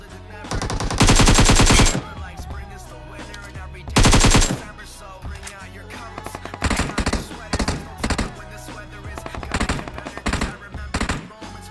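Automatic rifle fire from a Groza and an AKM in the BGMI mobile shooter erupts in loud, close bursts, two long sustained volleys followed by a run of shorter rapid bursts.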